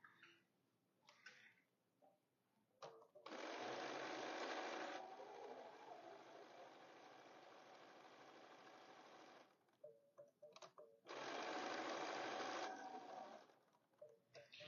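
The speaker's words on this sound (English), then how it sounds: "I'm going to stitch it down." Quilt fabric runs through a sewing machine in two bursts of fast stitching, a loud close whirring chatter separated by quieter pauses with light handling clicks.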